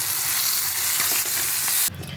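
Flat beans frying in oil with turmeric in a pan, a loud, close, continuous sizzle that cuts off abruptly near the end, no voices.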